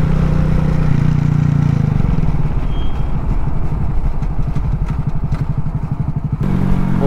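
A motorcycle engine, likely a small Grom, runs close by with a low idling rumble that turns into a rapid throbbing putter before settling back, loud and alone without talk.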